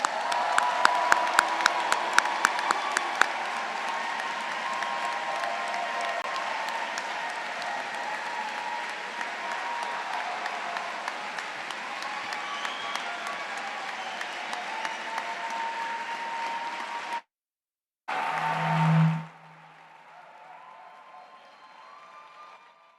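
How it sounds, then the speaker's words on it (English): Sustained applause from a university engineering commencement audience, dense clapping filling the hall for about seventeen seconds before cutting out, with a brief loud burst afterward and then a quieter room. "let's give them all a great round of applause."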